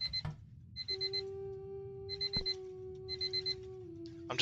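Repeated clusters of fast, bright beeps come from an alarm clock in the ghost-hunting game Paranormal Investigators, ringing near and steady over a droning tone that ends in a sharp burst.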